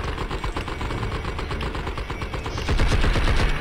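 Rapid bursts of gunfire from the horror shooter game Blood and Bacon, a dense, continuous volley of shots that grows louder near the end with no talk over it.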